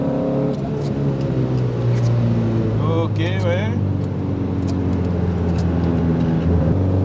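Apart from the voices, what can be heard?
Alpine A110 1600 S engine revving while driving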